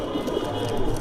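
Madrasi pigeons coo in a loft, a low, steady throaty murmur running through the whole moment with a faint voice mixed in.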